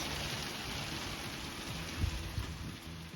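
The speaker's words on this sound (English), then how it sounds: "It's raining sideways." Heavy, wind-driven rain pours steadily in a garden in a dense, continuous hiss, with a couple of low thumps partway through.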